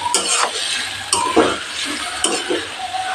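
Marinated chicken frying with onions in a pan for black chicken kala bhuna, stirred in three distinct scraping strokes over a light sizzle, close and without talk.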